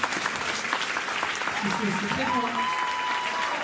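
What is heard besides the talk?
audience applause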